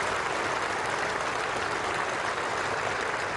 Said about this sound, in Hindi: हम सब इसकी ताली बजाकर स्वागत करें